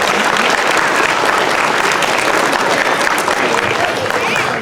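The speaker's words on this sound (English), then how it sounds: "So if you can give them a round of applause." Audience at a Linden school Christmas chorus program breaks into loud, sustained applause, a dense wash of many hands clapping steadily throughout without letting up.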